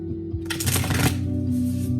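A deck of tarot cards being shuffled by hand, a quick riffling flutter of card edges that builds and then settles into softer ruffling, close and clear with no talk.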